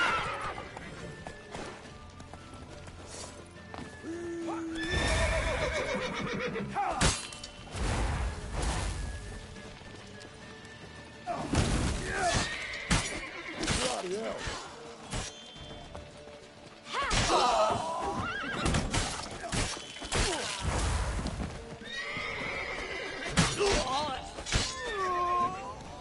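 Horses neighing and galloping in The Witcher video game, whinnies and hoof clatter mixed with crashes and shattering during a loud, chaotic battle, under shouting voices.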